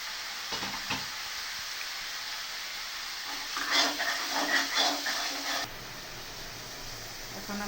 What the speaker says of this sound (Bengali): মশলাটাকে কষিয়ে নিতে হবে ভালো করে